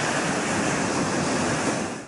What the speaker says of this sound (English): This YouTube video shows just how forceful the water can be as it's released